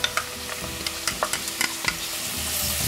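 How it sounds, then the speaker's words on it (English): Onion being stirred into golden, caramelizing mushrooms in a hot pan for cream of mushroom soup, with a steady sizzle under a run of close, quick utensil scrapes and taps, no voices. "I'm going to mix until they're well combined, and I'm going to cook these until the onions are just translucent"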